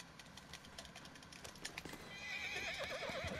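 A horse in the Red Dead Online video game gives a loud whinny that rises near the end, following faint clip-clop hooves and background game noise.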